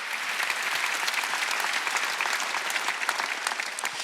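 Steady applause from a church congregation at a Wednesday worship service, dense continuous clapping throughout with no voices over it.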